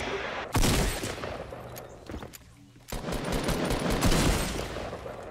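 Heavy shotgun fire in the video game Fortnite erupts in two loud bursts, each hitting hard and trailing into a rattling spray of shots that fills the rest of the clip.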